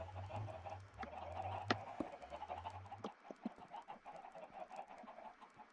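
Chickens cluck and squawk in a survival video game, a faint chattering flock with scattered sharp calls over a low droning background.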